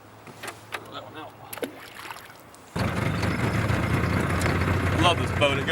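A small boat's outboard motor starts up partway through and then runs steadily, loud and close, on a winter fishing outing on the water; the first few seconds carry only quieter outdoor sounds.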